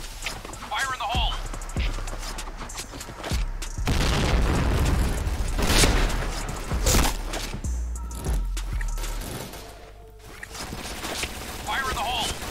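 Grenade explosions in the Point Blank video game, heavy booms and rumbling blasts bunched in the middle of a busy stretch of game noise, with in-game voice callouts heard around them.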